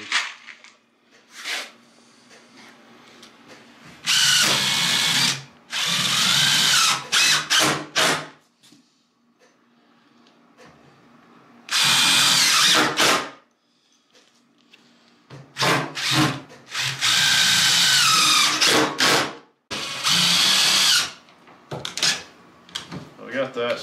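Power drill driving screws into a plastic barrel being made into a sled, several loud bursts of whirring separated by pauses, with a person talking between them.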